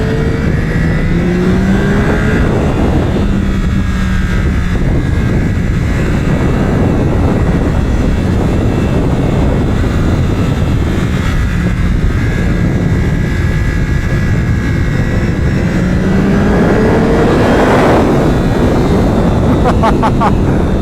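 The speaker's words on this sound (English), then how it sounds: "Effortlessly breaks down the gears with that auto blipper" A 2025 Yamaha R9 racing on track downshifts through its gears with an auto blipper, loud, continuous engine wail rising and falling in sweeps as the revs drop and recover, close and dominant throughout.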